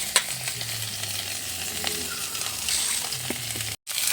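Cauliflower frying in oil in a village kitchen for khichuri, a steady crackling sizzle with occasional stirring scrapes, close and moderately loud, continuing alone without talk until a brief cut near the end.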